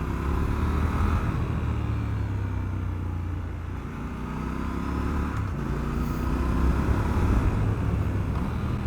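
A 2021 Triumph Scrambler 1200 XE engine gives off a loud, steady, low rumble while it pulls, dipping briefly and then rising again, with no talk over it.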